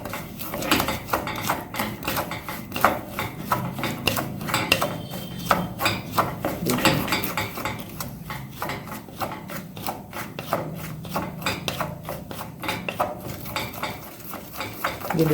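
Wooden spoon stirring thick lollipop candy syrup in a pan over low flame, steady continuous scraping and rubbing strokes, close and fairly loud, with no talking.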